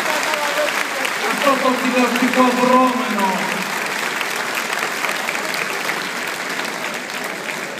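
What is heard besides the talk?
applause at a Pontic Greek festival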